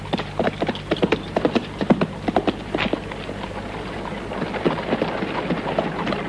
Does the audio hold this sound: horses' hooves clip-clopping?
yes